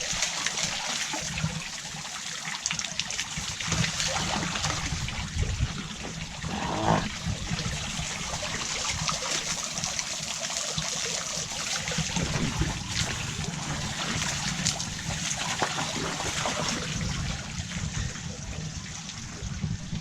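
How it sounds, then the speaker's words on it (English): Water runs steadily from a garden hose outdoors, a soft continuous splashing trickle at moderate volume with no break. "I'll just turn this hose off."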